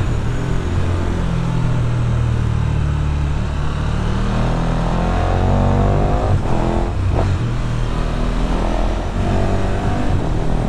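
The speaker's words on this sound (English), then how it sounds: "That is the standard exhaust." A 2020 KTM 1290 Super Duke R motorcycle with its standard exhaust, the engine loud and close as it revs and accelerates, pitch climbing and shifting continuously with no talk over it.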